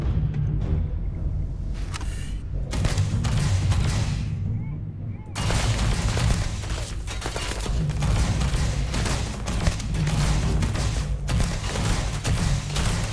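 Enemy gunfire in Starfield, dense bursts of shots and heavy booming impacts nearly continuous across the fight, with a short drop in intensity before the barrage resumes, and a voice speaking over it.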